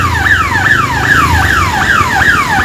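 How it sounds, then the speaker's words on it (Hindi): A railway crossing gate alarm near a busy village market in Kharsawan, Jharkhand, India, repeats a loud electronic wail, each tone sweeping down then jumping back up about every half second, close and continuous. "फाटक बंद होने के लिए ये अलार्म दे रही है"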